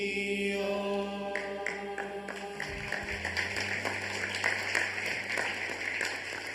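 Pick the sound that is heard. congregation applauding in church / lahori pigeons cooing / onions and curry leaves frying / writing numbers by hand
congregation applauding in church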